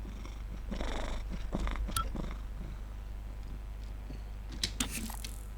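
Cat purring right against the microphone, a steady close rumble that carries through the whole stretch, with a few soft rustles and taps on top and no talking.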